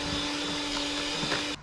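A nostalgic Hamilton Beach 5-speed hand mixer whirs with a steady motor hum and whine while making old-fashioned vanilla ice cream, then cuts off abruptly near the end.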